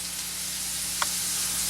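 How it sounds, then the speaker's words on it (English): Steady soft sizzle of spices, including cardamom, frying in a hot pan, with a brief clink partway through. "We got enough sizzle there."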